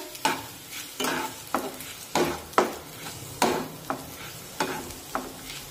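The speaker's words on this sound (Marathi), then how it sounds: "गॅसची फ्लेम अगदी मंद ठेवून ही भगर हलक्या तांबूस रंगावर भाजून घेऊया" Barnyard millet (bhagar) is stirred and dry-roasted in a pan over a low flame, a spoon scraping through the grains in rhythmic strokes with a soft gritty rustle and faint sizzle, close and clear with no talking.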